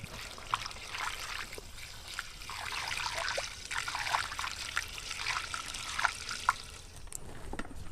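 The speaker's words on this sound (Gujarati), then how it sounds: "આ પાંચ લીટર પાણી એડ કર્યું" Five liters of water pour and trickle into a container for a farm enzyme preparation, a steady splashing gurgle with small drips and knocks, close and moderately quiet, with no talking.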